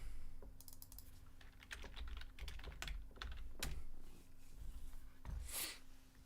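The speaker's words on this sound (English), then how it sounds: "I'll just type it in." Rapid clicking keystrokes on a computer keyboard, fairly quiet and close, come in irregular bursts over a steady low electrical hum, with one brief noisy burst near the end.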